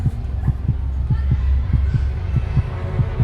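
A steady heartbeat thumps in a regular double-beat rhythm over a low, droning hum, close and prominent throughout.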